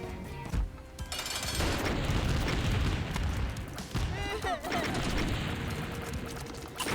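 Many small explosions going off in The Binding of Isaac, a dense, continuous barrage of popping blasts under game music, with a person talking over it.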